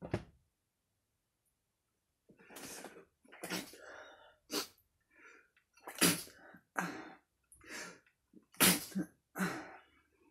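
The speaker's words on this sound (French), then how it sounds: "je vais éternuer." Several sharp bursts of sneezing and wheezy breaths follow one another close up after a brief silence, loud and irregular.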